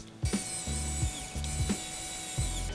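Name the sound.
clamping 2.5 mm² copper wires into a connector terminal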